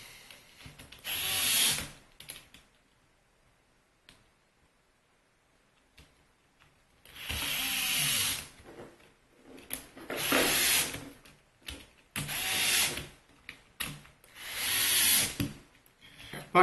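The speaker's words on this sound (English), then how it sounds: "By the way, this is a DeWalt electric screwdriver." A DeWalt electric screwdriver with a nut driver bit runs nuts onto terminals of a DIY lithium battery pack, sounding as repeated loud whirring bursts of a second or two, separated by pauses and small clicks of handling.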